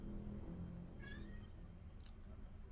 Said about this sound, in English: Move, cat.